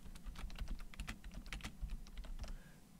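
Rapid typing on a computer keyboard, a steady run of close, crisp key clicks with uneven rhythm and no voices.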